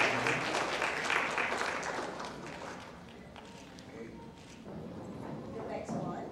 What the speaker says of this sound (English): Give big applause for him.